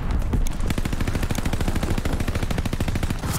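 A DP27 machine gun fires in a video game, rattling off a long, rapid, evenly spaced burst of loud shots that continues without a break.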